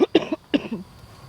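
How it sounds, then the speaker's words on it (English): Close, raspy coughing from someone recovering from a respiratory illness: three or four quick hacking bursts in a short run, then quiet. "I start coughing"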